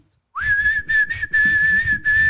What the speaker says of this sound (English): Do your whistle.